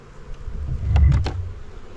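Honey bees in an extremely weak hive hum low and steady during an inspection, the buzz swelling briefly in the middle as frames are handled, with a few soft knocks and no talk.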